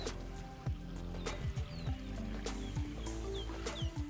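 Pheasants in a large outdoor aviary give repeated short clucking and chirping calls, several birds close by, with a few scratchy wing or movement sounds over steady background noise.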